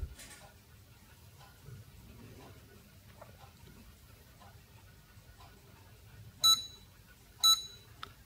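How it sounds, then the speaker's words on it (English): A glucometer, a blood sugar meter, gives two short, sharp electronic beeps near the end of a quiet stretch, followed by a faint third click. "Now it beeps."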